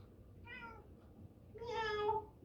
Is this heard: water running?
no